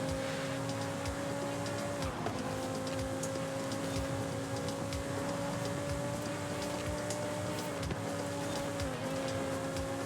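Race cars roar close by in Forza Horizon 5, a steady layered engine drone that shifts pitch as gears change, with tire and road noise underneath and no voices.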